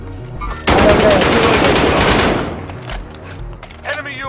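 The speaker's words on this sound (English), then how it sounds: "They're shooting me." Dense rapid gunfire in a battle royale video game, a loud close burst of automatic shots that rattles on for about two seconds before thinning into scattered distant pops.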